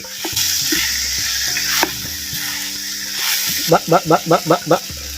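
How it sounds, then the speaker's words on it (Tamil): Capsicum sautéing in oil for a Chettinad mandi makes a close, even sizzle as it is stirred, followed by a short run of rhythmic scraping pulses near the end. "சேர்த்த குடமிளகாய எண்ணெயில் சுருள சுருள நல்லா அப்படி கிண்டி விட்றேன்"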